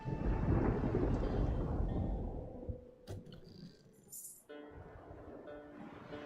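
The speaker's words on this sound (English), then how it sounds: "Gonna go through a storm." Rolling thunder and heavy storm rumble from a sea storm in a video game, loud and dense at first, then easing into quieter rain-like hiss with a few sharp cracks and faint game effects.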